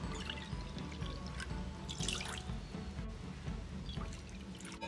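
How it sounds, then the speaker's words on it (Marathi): Water pours steadily into a cooking pot in a home kitchen while raw mango gulamba with jaggery is being made, a faint, continuous splashing stream with a few brighter trickles and no talking. "एका पातेल्यामध्ये पाणी घेते."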